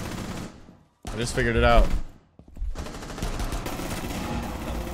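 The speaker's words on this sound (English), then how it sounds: "Just shoot. Just keep shooting." Rapid gunfire in a cops-versus-champs video game shooter, crackling under a voice speaking over it, with a brief gap and the shots carrying on densely afterward.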